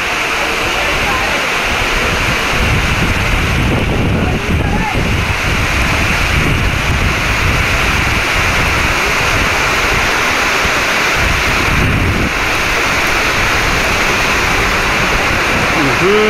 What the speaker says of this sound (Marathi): पाऊस आला, चांगलाच पाऊस आला.